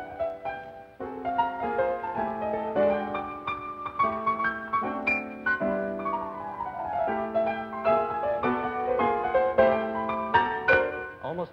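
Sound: progressive jazz piano playing the tune

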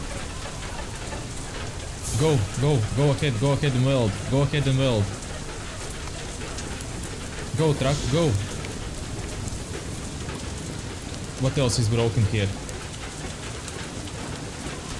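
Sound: hail falling in the video game FAR: Lone Sails

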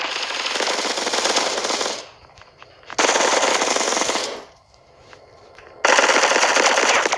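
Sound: gunfire in the video game Bullet Echo

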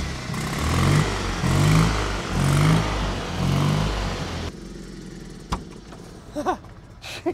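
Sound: classic Fiat 500 engine revving

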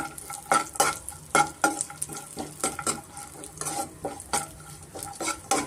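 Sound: dry fruits and raisins frying in a pan

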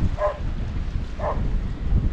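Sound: strong northeasterly wind blowing on the coast

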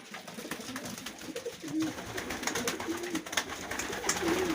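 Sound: pigeons in a loft

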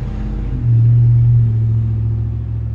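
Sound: road traffic passing by

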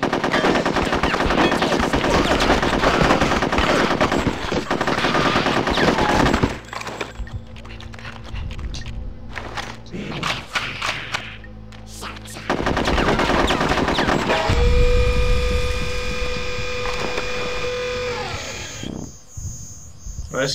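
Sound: gunfire in video game Conker's Bad Fur Day

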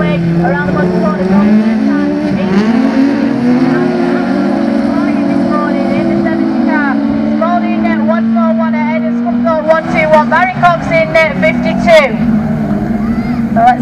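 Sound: autograss race cars racing

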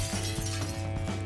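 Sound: glass panel shattering in video game Teardown

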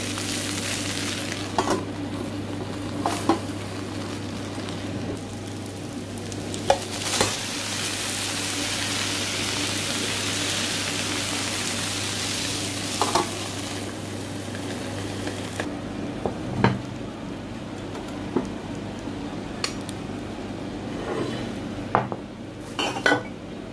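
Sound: bonito fish cooking in aluminium foil in a pan

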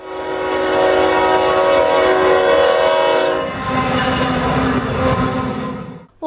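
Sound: long freight train passing with many wagons

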